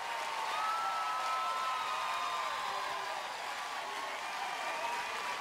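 Distant crowd noise carries from the stands at an NCAA regional game between Alabama and South Alabama after a bunt is overthrown. A faint, steady wash of cheering and clapping continues without a break.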